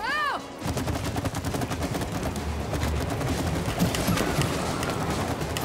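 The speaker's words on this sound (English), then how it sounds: "I'm shooting middle! I still got hit, but... Okay, middle. I'm shooting middle." Rapid gunfire from the video game It Takes Two, dense and continuous, with a brief sweeping tone at the start before steady loud shooting fills the clip.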